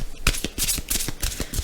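A deck of oracle angel message cards being shuffled and cut, a quick run of crisp riffling flutters and soft slaps, close and clear, with no one speaking over it.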